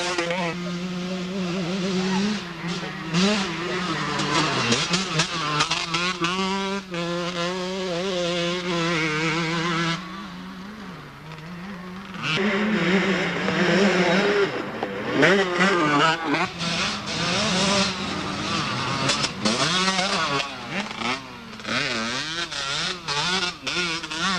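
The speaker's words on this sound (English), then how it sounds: "Next rider to the line is Marco Battelle on the Husqvarna machine." A Husqvarna enduro motorcycle revs at the start line of the 1998 International Six Day Enduro in Australia. Its engine note rises and falls in repeated throttle blips and stays loud throughout, with other engines idling nearby.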